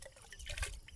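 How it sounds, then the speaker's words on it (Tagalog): Liquid chemical poured from a container straight into a drum already holding water on a chili pepper farm, a brief close splashing gush and trickle lasting about a second. "So ibuhos na diretso sa drum na may laman na tubig"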